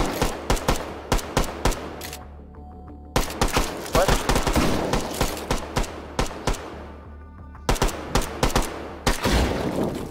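A Tommy gun fires in rapid bursts inside the VR game Hot Dogs, Horseshoes and Hand Grenades, with sharp repeated cracks coming in clusters and short pauses between them.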